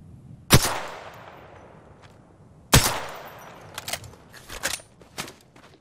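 Gunfire in the battle royale shooter Apex Legends: two sharp, loud shots about two seconds apart, followed by a quicker cluster of smaller bursts, with no talking.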